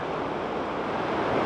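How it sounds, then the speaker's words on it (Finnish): Rushing river rapids with a strong current at Vääksy canal park in Finland, a steady, loud broadband roar of churning water with wind noise mixed in, no voices. "nyt kuhisee, että siellä on kova virtaus päällä tällä hetkellä"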